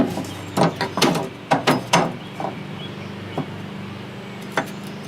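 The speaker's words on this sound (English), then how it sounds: "And so bolt these down." Rear seat mounts being bolted down inside a Jeep TJ: a handful of sharp metallic clicks and ratcheting clatters clustered early, then sparser single knocks, close by and alone.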